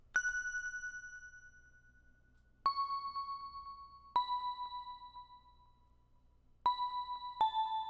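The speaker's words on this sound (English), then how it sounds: "I'm just going to throw a little bell on top of our melody" A bright bell synth plays a slow ambient plugg melody of sustained, ringing single notes, each struck clearly and decaying gently, with a quiet low pulse beneath.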